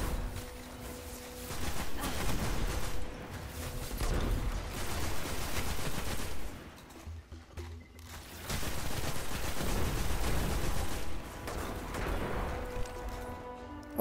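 Loud sustained gunfire in the video game Destiny, with dense bursts of rapid shots and impacts that pause briefly midway and then resume, heard without speech.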